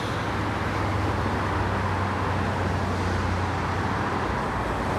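A Porsche passes on a road amid steady traffic noise, a constant broad engine and tire rumble close by, no talking.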